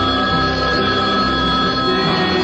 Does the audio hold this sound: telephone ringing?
yes